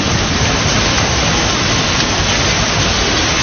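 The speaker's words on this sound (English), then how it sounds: "Sí, está cayendo granizo, sí." Hail pelting down during a violent storm around Barcelona, Spain, a dense, loud, unbroken hiss-roar of stones striking surfaces with no letup and no voices.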